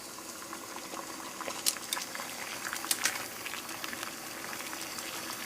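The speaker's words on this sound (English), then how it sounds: "And we have rolling boil." Sixteen ounces of water at a rolling boil on a small penny stove, a dense continuous bubbling and popping with sharper crackles now and then, close and steady throughout.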